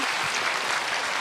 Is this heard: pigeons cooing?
no